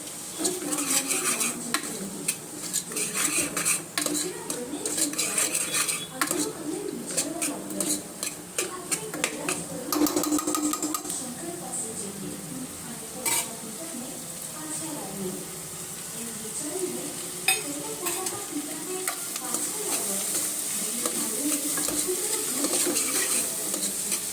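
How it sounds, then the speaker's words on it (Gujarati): Vegetables and chillies sauté for pulao in a pot, a constant sizzle broken by repeated scraping and clinking of a metal spoon against the pan, fairly close, with no one speaking. "પછી બધું વેજીટેબલ સાંતળી લેવાનું।"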